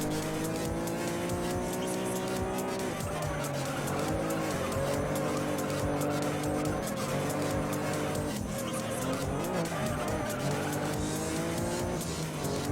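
Honda NSX lapping a circuit in a racing video game, the engine droning continuously with rising and falling revs through gear changes, and tire squeal from cornering.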